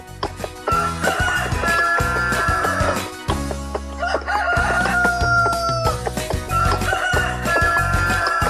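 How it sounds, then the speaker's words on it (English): A rooster crows loudly over a busy, music-like background of harmonic tones, the crow standing out clearly among continuous layered sound throughout. "Rooster."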